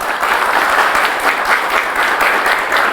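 Sustained applause from university students in a television studio audience, a loud, dense wash of clapping that fills the whole stretch without a break.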